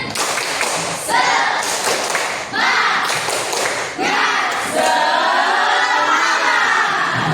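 A classroom of children performs a rhythmic spirit clap in unison, loud, bursts of patterned claps with shouting voices, punctuated by thumps, mixed with a teacher's voice.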